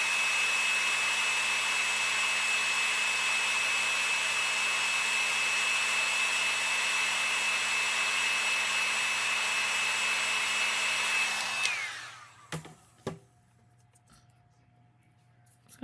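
A hair dryer blowing steadily on a polymer clay mixed-media mosaic Christmas ornament, a loud constant whooshing hum for about twelve seconds before it switches off and winds down, followed by faint handling clicks.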